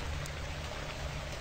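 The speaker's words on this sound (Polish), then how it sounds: "narasta dźwięk deszczu." Steady rain hisses and patters in the survival game Shadows of Kurgansk, a soft, even wash of falling drops with a low rumble beneath, continuous and unbroken for the whole stretch.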